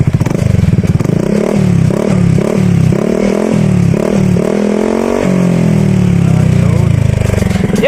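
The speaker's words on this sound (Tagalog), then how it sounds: "pakirinig ko lang sa inyo yung sound check nito with silencer para marinig nyo guys" A Honda Beat FI scooter fitted with an Akrapovic muffler and silencer, revved up close and loud in repeated short rising bursts, then held in a longer rev that slowly falls away.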